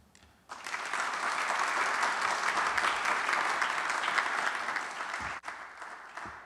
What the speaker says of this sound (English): That's not enough applause for Senator Ayers.